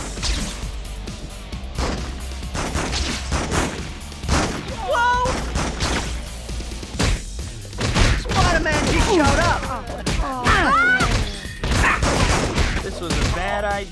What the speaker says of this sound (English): some thugs are shooting at the police